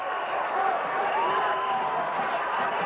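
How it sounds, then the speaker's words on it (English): A cricket crowd cheers Shahid Afridi's big hit, a steady broad roar of many voices, moderately loud and sustained without letup. "The crowd are enjoying this."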